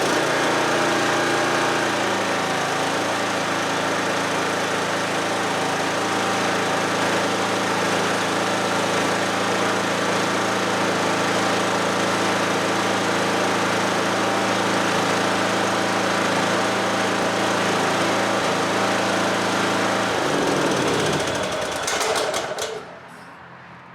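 A 2004 Cub Cadet lawn tractor with a 19hp Kohler engine and a knock runs steadily at close range, a loud continuous chugging drone that holds for about twenty seconds before it cuts off and winds down.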